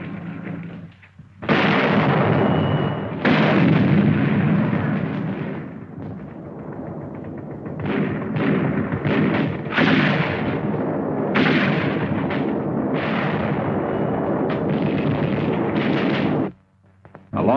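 Heavy artillery from Chinese infantry and artillery units on the wartime Stilwell Road in Burma booms in loud, sustained salvos, with deep blasts rolling into one another and only brief lulls between them.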